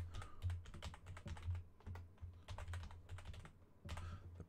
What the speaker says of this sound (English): Again, terrible typing.